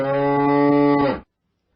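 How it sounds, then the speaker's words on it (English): A bull lets out a single loud, sustained moo lasting over a second, rich and harmonic, ending abruptly into silence. "There was a bull at Bashir's house"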